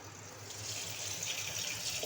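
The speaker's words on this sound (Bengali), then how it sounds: "সবজিটা কেটে এবার একটু ভালো করে ধুয়ে নেব" Running tap water pours steadily over freshly chopped vegetables being washed in a home kitchen, a soft continuous splashing stream with no talking.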